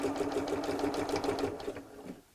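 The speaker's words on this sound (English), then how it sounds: "I'm just sewing through the fabric pieces, not through the bow." Sewing machine stitching through fabric pieces of a Christmas cone advent calendar, a close, steady mechanical whirr with fast regular needle thumps for about two seconds before slowing to a stop.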